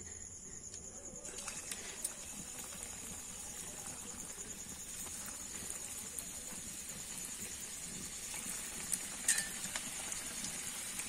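Small birds fry in hot oil in a pan, a faint steady sizzle with light crackles and occasional clicks throughout, fairly distant and without talk.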